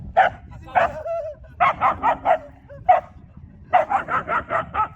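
A dog at a pet park barks in quick bursts, first single woofs, then rapid runs of four or five close barks, loud and near.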